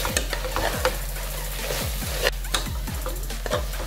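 A spoon works mutton curry and coconut cream together in a pan, making repeated scraping strokes in a regular rhythm over a continuous soft sizzle, with a few sharper knocks against the pan.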